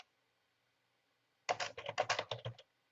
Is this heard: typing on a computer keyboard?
yes